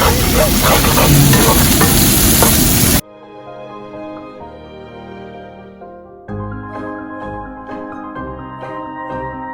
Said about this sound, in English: Keep stirring and make sure it doesn't get burnt